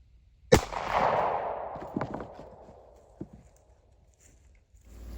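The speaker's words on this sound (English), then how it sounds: "And now it's time for the 9mm." A single 9mm pistol shot fired at a target, one sharp loud crack followed by a decaying rumble and a couple of faint knocks, with no talk.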